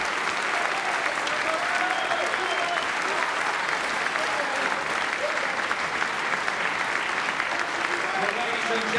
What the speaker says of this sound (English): A standing ovation from this Newport Centre crowd.